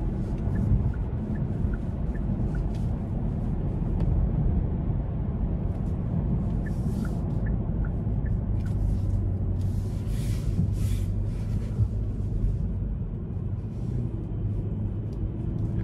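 Steady, loud rumble of a 2025 Hyundai Sonata's naturally aspirated 2.5-litre four-cylinder engine heard from inside the car while accelerating, mixed with road and tyre noise and a few faint clicks and ticks, with no talking.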